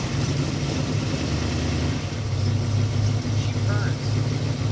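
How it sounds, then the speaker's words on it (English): A 1965 Ford Galaxie 500 engine runs a little rich from heat soak, a steady, even low rumble idling close by throughout, with no revving and no talk over it. "Can we hear it run? Sure. Little rich there from heat soak."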